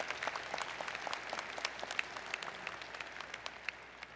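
A commencement crowd at the 2018 A. James Clark School of Engineering graduate ceremony claps for a speaker's remarks, the applause even and somewhat distant, with a few sharper individual claps standing out throughout.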